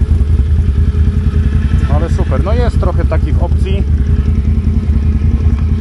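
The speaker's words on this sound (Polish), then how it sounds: "Tu już tam inaczej się kręci ten silnik." Can-Am Outlander XXC 1000 ATV engine running at idle, a steady close rumble that stays under someone talking throughout.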